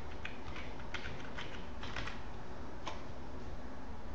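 Keys clatter on a computer keyboard in short bursts of rapid taps over a steady hiss, close and moderately loud, then trail off into sparse keystrokes.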